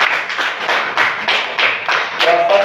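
Fifth-grade classroom clapping for a correct answer, a loud close burst of rhythmic group claps in regular beats, with a brief voice near the end.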